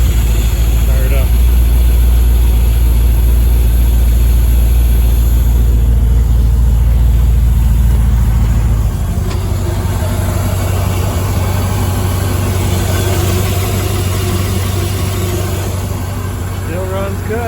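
A burnt, junkyard AMX engine idles steadily and loud close by, its low rumble dropping slightly in pitch partway through, with faint voices in the background.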